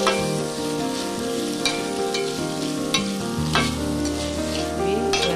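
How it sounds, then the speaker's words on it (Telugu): Ginger garlic paste sizzles and fries in a pan while a utensil stirs and scrapes through it, with a constant close crackle and intermittent scraping strokes. "ఇప్పుడు మనం అల్లం వెల్లుల్లి పేస్ట్ వేసుకుందామండి."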